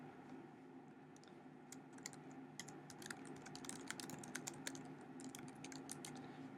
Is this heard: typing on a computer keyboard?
yes